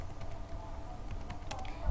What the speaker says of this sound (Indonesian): selanjutnya saya akan mengetik untuk penugasan